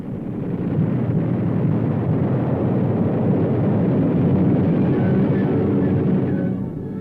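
Explosions from low-level parafrag fragmentation bomb attacks on enemy airstrips in archival wartime film, heard as a loud, continuous rumbling roar that persists steadily throughout without separate distinct blasts.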